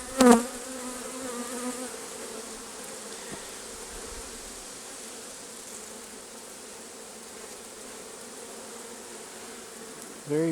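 Honey bees buzz steadily around an open hive in a dense, continuous hum that holds throughout, close and even, with brief handling sounds at the start and end.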